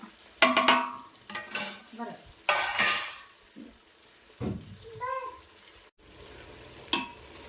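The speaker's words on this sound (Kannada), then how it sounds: "ಈಗ ಉಳ್ಳಾಗಡ್ಡಿ ಮೆಣಸಿನ್ಕಾಯಿ ಚಂದ ಫ್ರೈ ಆಗ್ಬೇಕ್ರಿ ಇವ" Onions and green chillies frying in a large pot, with a soft sizzle broken by loud, irregular metal clatters of stirring and scraping and a brief voice.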